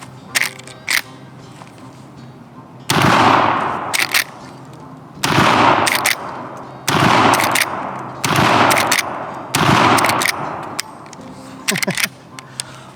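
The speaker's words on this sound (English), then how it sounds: "Let's fire some shots downrange." A Henry .410 shotgun is fired downrange outdoors, about five loud, booming reports spaced a second or two apart, each trailing off, with talk around them.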